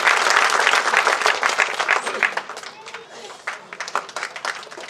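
A crowd at a stage event breaks into loud applause that gradually thins into scattered clapping, with voices talking over it toward the end.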